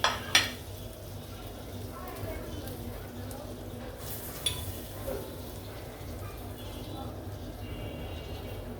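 Rohu fish and potatoes go into a pan of creamy home-spiced curry, a couple of sharp metal clanks followed by a steady low sizzle and faint utensil knocks.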